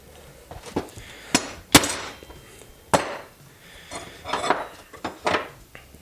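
Several sharp metallic taps from a hammer striking a 1/2 inch transfer punch to mark a hole, spaced irregularly, close and clear with quiet gaps between.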